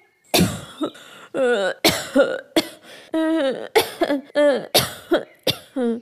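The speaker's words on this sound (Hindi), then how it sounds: "मेरे कुकू को कल से बहुत खांसी है।" An animated cartoon character coughs repeatedly in a rapid, wheezy series of short hacking bursts with rasping, voiced breaths in between, close and loud.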